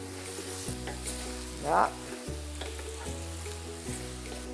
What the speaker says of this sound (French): une bonne cuillère de courbouillon, et donc je remue.